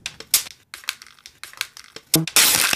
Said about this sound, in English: And some other like various paper sounds. Crumple.